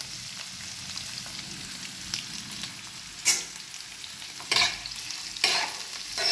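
Pumpkin, capsicum, ivy gourd and tomato frying in a pan for masala rice, a soft continuous sizzle broken by several sharp scraping stirs of a spatula, close up with no talk.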